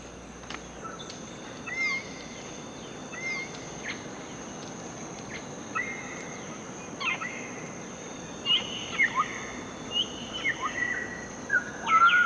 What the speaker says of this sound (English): African gray parrots balance like tightrope walkers to get a bite.